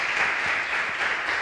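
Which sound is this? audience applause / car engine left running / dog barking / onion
audience applause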